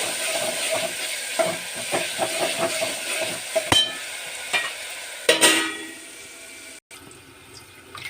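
Salted vegetable pieces fry in a pan while a spoon stirs and scrapes them. Sizzling crackle comes with clinks and scraping strokes, close and fairly loud, and it quiets toward the end.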